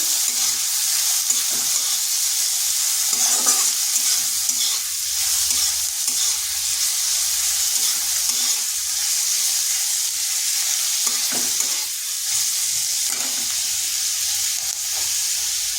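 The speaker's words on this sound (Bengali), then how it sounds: "পেঁয়াজটাকে হালকা একটু ভেজে নিচ্ছি" A large onion, cut into big chunks, sizzles steadily in a pan while a utensil stirs and scrapes it in irregular strokes, with a continuous bright hiss of frying throughout and no talking.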